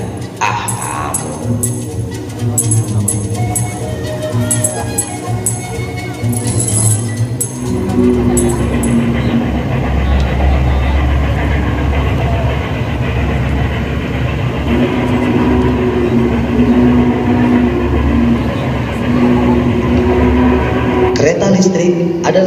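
An electric commuter train in Jakarta rumbles along with a steady low drone and rattling, loud and continuous, brakes squealing near the end.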